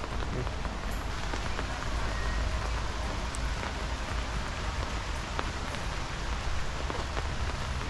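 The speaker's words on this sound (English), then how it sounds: "It's raining." Steady rain patters on a surface at a wildlife zoo in Queensland, Australia, a dense even hiss with scattered drops, no voices.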